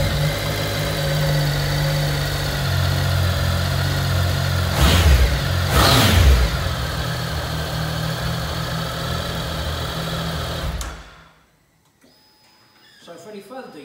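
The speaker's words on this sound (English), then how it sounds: "Let's start her up." A Triumph Speed Triple S 1050cc motorcycle engine idles with a steady, close, throbbing hum, blipping twice in brief revs midway, then cuts out to near silence.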